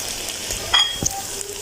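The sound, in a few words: potatoes frying in a pan for aloo anda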